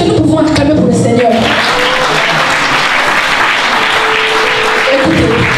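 A church congregation bursts into loud, close applause, dense clapping sustained for several seconds before tapering off.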